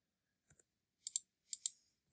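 A computer mouse clicks in a quiet room: a faint double tap, then two sharper paired clicks spaced about half a second apart, close and crisp against near silence, with no voice.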